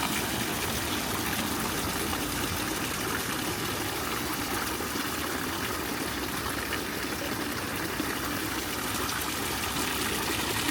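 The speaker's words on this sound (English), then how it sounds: "sparkling, sprinkling water." Steady broadband rush of water splashing in a city fountain in the middle of Augsburg's old town, continuous and fairly close, with no talk over it.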